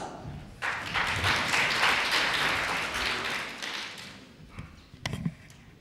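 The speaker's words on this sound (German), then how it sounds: "Florian Huber, ein Applaus." An audience at a youth speech competition applauds a speaker: a burst of dense clapping swells quickly, holds for a few seconds, then fades, followed by a few scattered thumps.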